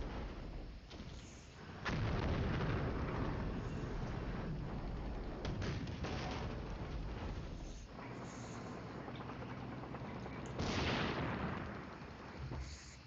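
Rumbling bursts of artillery and gunfire from a World War II tank combat game sound in a dense, sustained roar, with a sharp blast near the start and another loud surge toward the end.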